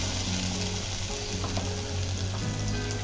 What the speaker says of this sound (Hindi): 5 मिनट के लिए हम इसे स्लो फ्लेम पे भूनेंगे अच्छी तरह से, जब तक मसाला हमारा तेल न छोड़ दे।